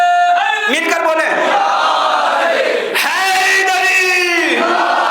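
Crowd at a Muharram majlis shouting a slogan in unison, loud, close, sustained voices in two surges with a brief dip between them.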